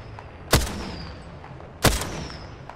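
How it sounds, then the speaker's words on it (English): Two sharp, loud gunshots in the video game Apex Legends, spaced just over a second apart, each with a brief crack and short tail over a quiet background. "I am taking fire"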